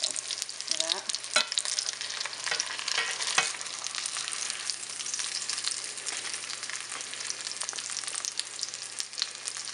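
Steady, dense sizzle of chicken cutlets frying in a pan for chicken parm, crackling and hissing continuously at close range with occasional sharper pops and scrapes, no talking.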